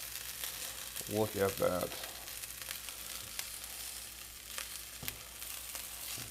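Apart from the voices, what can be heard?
breakfast burrito toasting in a pan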